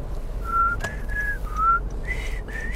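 Someone whistles a short tune, a few bright sliding notes with brief pauses between them, clear and close over faint background noise.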